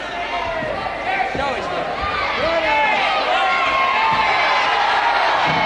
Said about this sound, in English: Crowd screaming for a straight arm lift